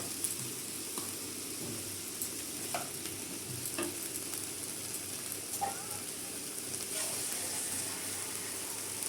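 Vegetables and matar dal curry sizzle in a hot pan with ginger paste, turmeric and chilli powder, a steady close frying crackle with occasional stirring clinks and scrapes, no talking.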